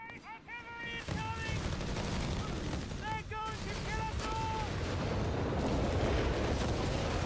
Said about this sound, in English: Artillery coming.